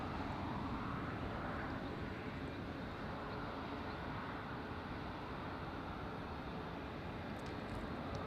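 An Airbus A380 airliner passes close by at LAX, a loud, steady broadband engine roar that holds for the whole stretch with no talk over it.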